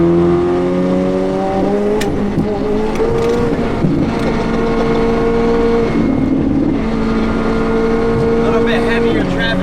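A loud McLaren 765LT sports car engine roars and drones steadily, its rising and falling tones reverberating through an underground tunnel, with voices faintly underneath.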